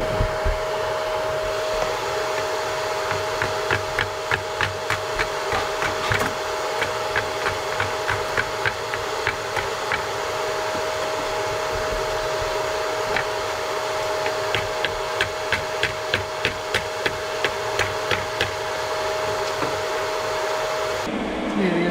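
A chainsaw mills Atlantic White Cedar into lumber with a loud, steady, close-up droning whine that runs throughout, with small rhythmic ticks as the chain cuts and a shift in tone at the very end.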